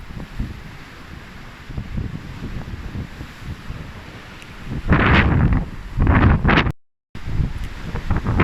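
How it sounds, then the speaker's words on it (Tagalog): Strong wind blows across the shore of a large lake, buffeting the microphone with roaring gusts that swell louder toward the end, broken by a brief dropout. "Grabe lakas ng hangin dito."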